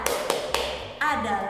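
Schoolchildren in a class 3 lesson do the "tepuk senyum" clapping chant: three crisp, evenly spaced claps, followed by someone speaking.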